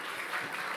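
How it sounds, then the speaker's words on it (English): Audience applause at the 2026 Drake Awards ceremony, a steady wash of many hands clapping at an even level throughout, filling the room with no voices standing out above it. "You can clap, that's okay."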